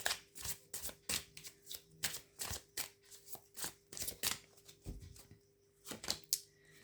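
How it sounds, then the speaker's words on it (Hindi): Tarot oracle cards being shuffled by hand, a quick run of crisp riffling flutters and soft slaps repeating steadily, close and fairly quiet with no talking. "आप लोगों के लिए ओरेकल से हम लोग कुछ कार्ड्स देखेंगे यहाँ पर।"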